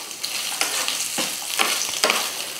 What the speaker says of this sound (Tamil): தேங்காய் சேர்த்ததுக்கப்புறம் 1 நிமிஷத்துக்கு வந்து எண்ணெயில் வந்து நல்லா வறுத்துக்கலாம்